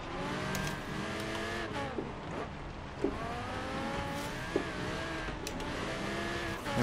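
An Audi R8 Coupe V10 Plus 5.2 FSI quattro races in Forza Horizon 3, its engine revving hard and climbing through the gears with rising and falling sweeps, alongside a dense, continuous roar of racing cars.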